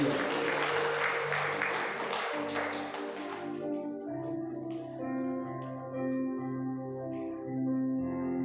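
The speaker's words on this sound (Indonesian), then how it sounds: "Mari kita berikan tepuk tangan dengan sambutan yang hangat." A church congregation applauds to welcome a speaker at a Sunday worship service, the clapping strong at first and then fading as sustained keyboard or organ chords take over.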